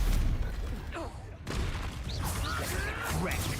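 A Confringo fire spell blasting in Hogwarts Legacy: a sharp broadband burst lands mid-clip among rolling explosive crackles and whooshing streaks over a dense, rumbling game backdrop.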